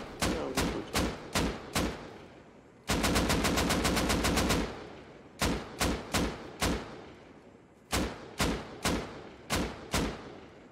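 An automated turret in Rust fires loud, close gunshots in short bursts of spaced single shots, with one long rapid burst in the middle, each crack sharp and distinct.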